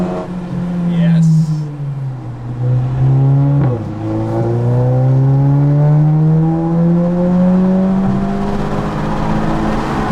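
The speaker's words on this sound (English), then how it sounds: "That's a proper exhaust right there." A 2017 Audi A4 Quattro S line exhaust roars up close, revving and climbing through gears with a sharp shift midway, loud and sustained.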